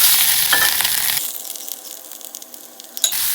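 Grated coconut and small shallots fry in hot oil, with a loud hiss at first that settles into a quieter, crackling sizzle, and a sharp clatter near the end.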